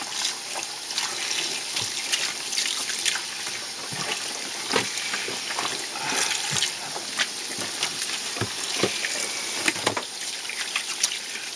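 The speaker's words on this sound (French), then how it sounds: "vous rincez ça jusqu'à temps que ça soit bien rempli" Running water pours steadily while deer hides are rinsed, a continuous splashing wash with scattered louder sloshes and drips, close and moderately loud with no talking.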